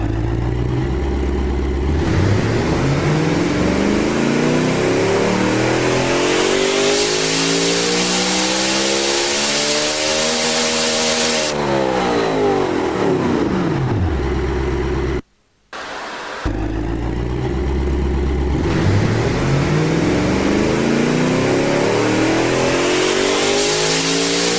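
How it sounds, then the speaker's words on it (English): Simulated V8 running on E85 during a dyno pull in the car-building game Automation: a loud, close engine climbs steadily to a high-revving wail, drops, cuts out briefly, then roars back up again, with no speech. "Yeah, it's a beautiful sounding V8."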